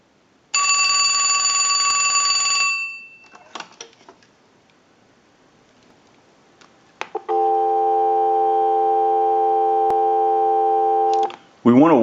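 Western Electric 2554 wall telephone: a final ring burst, then handset clicks and rattles, then a steady dial tone humming for about four seconds before cutting off.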